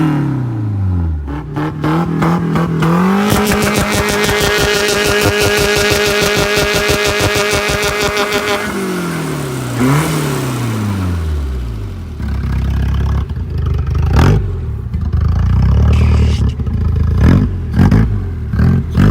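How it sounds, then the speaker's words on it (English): Car engine running homemade nitrous and boost revs hard, climbing to a sustained buzzing high-rpm roar, then drops back with rough popping and crackling backfires from the intake. The engine is loud and close. "Oh, the intake noise! Dude, is it backfiring out of the intake?"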